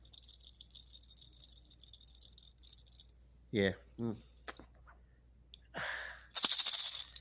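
A faint, dry rattle of a dud maraca being shaken plays through the background, followed by a person making a few brief vocal sounds and a breathy hiss at the end.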